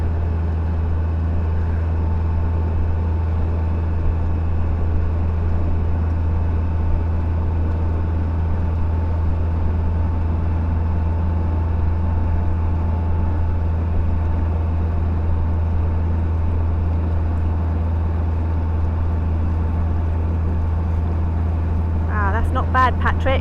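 A narrowboat engine drones loud and steady with a low, constant hum throughout as the revs are increased, and a brief burst of sound near the very end.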